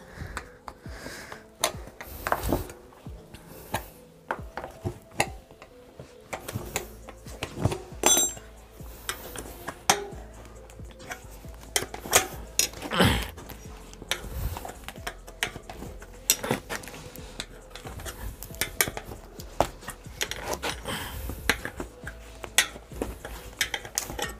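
A bicycle tyre levered off its wheel rim after deflation, with a busy stream of sharp metallic clinks, clicks and scraping knocks for many seconds, fairly close, with no speech.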